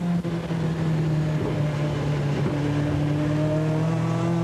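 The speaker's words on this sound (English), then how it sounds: "Third gear, 120 miles an hour, and past Carl Jones, up into third place" Onboard a 1988 British Touring Car Championship racing car at speed: a loud, steady engine drone fills the cabin, its tone climbing gradually as the car accelerates, with no voices.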